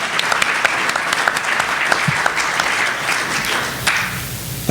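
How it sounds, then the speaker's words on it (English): A synagogue or conference audience applauds in a thick, sustained wash of many hands clapping, loud and close, tapering off near the end. "And we should all applaud."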